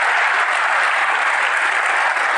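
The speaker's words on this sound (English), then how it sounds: "everyone give them a huge, huge round of applause" Steady, dense applause from a conference hall audience at a hacker convention, welcoming first-time attendees; loud, continuous clapping with no voices, holding level throughout.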